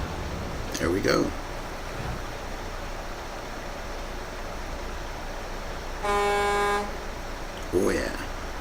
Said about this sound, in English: That's what I like to hear in a horn.